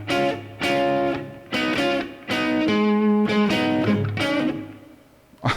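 Electric guitar playing a section of a song as a lesson demonstration, with several plucked chord and note hits in a choppy rhythm, close and moderately loud, no talking.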